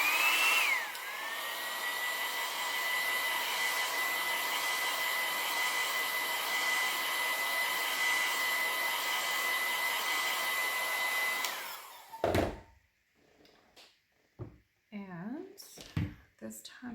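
A hair dryer blows on a small painted craft project, its close, steady whoosh running for about eleven seconds before clicking off, followed by a few handling knocks and brief speech.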